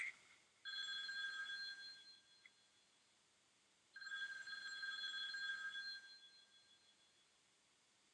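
A telephone in Friday the 13th Part 2 rings twice, each ring a long trilling burst lasting a few seconds with a quiet pause between, heard fairly distant in a hushed room with no talking.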